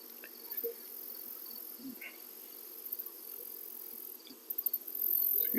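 Honey bees buzzing around an open hive during a varroa mite check, a faint, thin steady hum with soft intermittent bumps and handling sounds nearby.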